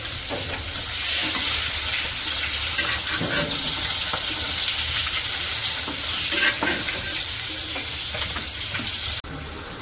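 Eggplant slices frying in oil in a village kitchen, with a loud, continuous sizzle broken by scattered scrapes and clinks of a utensil in the pan. The sizzle drops off abruptly near the end.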